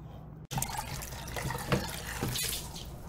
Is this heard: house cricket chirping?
no